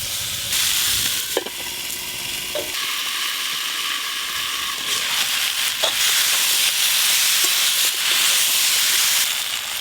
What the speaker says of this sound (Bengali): হলুদ গুঁড়ো, আলু, কুমড়ো আর পুঁই শাক একটু ভালো করে ভাজা ভাজা করে নিই